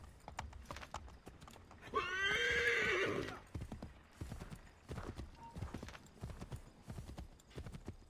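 A horse in Assassin's Creed III walks with steady clip-clop hoofbeats close by, and one loud whinny cuts in about a quarter of the way through before the hooves carry on.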